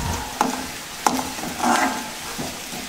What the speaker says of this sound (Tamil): கடுகை போட்டு பொடி வெங்காயம் வெட்டி வச்சுருக்கோம், நல்லா வதங்கி வரட்டும்.